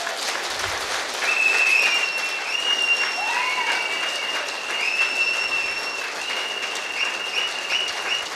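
Sustained audience applause at a women's leadership success event, steady clapping from a crowd lasting several seconds with a few faint voices and whistles over it.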